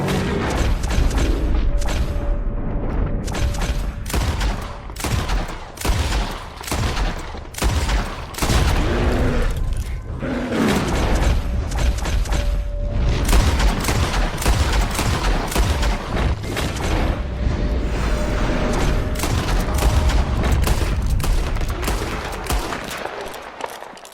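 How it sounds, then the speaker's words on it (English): Rapid, continuous gunfire from a bear hunt in Red Dead Redemption 2, loud and dense bursts of shots with mechanical clatter running nearly the whole time, with no talk over it. "Shoot that thing, please!"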